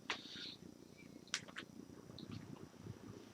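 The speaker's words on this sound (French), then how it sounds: "Il y a mon chat qui vient vous embêter." A cat at home during a live online class lesson, making a few faint, brief meow-like calls over a quiet background hum.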